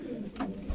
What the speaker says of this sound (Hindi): कमंगर नस्ल का कबूतर है जी